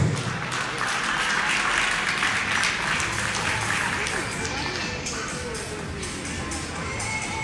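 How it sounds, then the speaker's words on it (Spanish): Sustained, loud applause fills an indoor dog show in Uruguay as a crowd claps steadily throughout, with faint voices mixed into the dense wash of clapping. "la despedimos con un fuerte aplauso"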